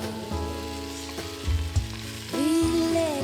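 Green chilies, onions and peas fry in ghee with cumin, a soft steady sizzle with occasional stirring knocks, with background music throughout.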